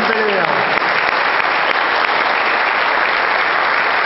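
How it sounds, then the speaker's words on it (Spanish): Loud, dense audience applause fills an arena after a boxing bout between Juan Adrián Monzón and Fernando Gabriel Peralta, a steady, unbroken roar of clapping from start to finish. "vamos a brindarle un fuerte aplauso a estos muchachos que tienen una gran pelea."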